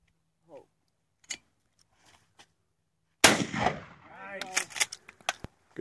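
A shotgun blast at 3.2 s, part of clay target shooting, loud and close, with a ringing tail and echoes. A few faint clicks come earlier, and people talk briefly afterward.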